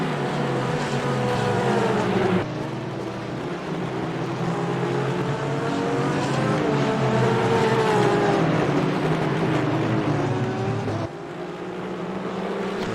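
GT3 race cars in a sim racing game at the Nürburgring, including an Aston Martin, roar with layered engine tones rising and falling through gear changes, loud and continuous with a brief drop near the end.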